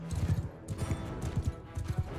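A horse charges into battle in a medieval strategy game, a quick run of galloping hoofbeats, fairly close and steady, with no one talking.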